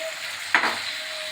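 Fried cauliflower pieces go into a pan of spiced potato masala, giving one sudden burst of sizzle that fades into a softer frying hiss with stirring.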